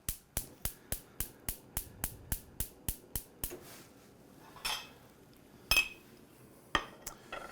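A spoon clinks rhythmically against a pot while crab bisque is stirred, about a dozen quick metallic taps in steady succession, then a few scattered louder scrapes and knocks, close and fairly quiet with no talking.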